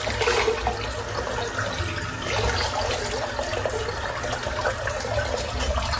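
Water runs steadily from a tap while shaving cream is rinsed off skin, a continuous close splashing wash with no talk.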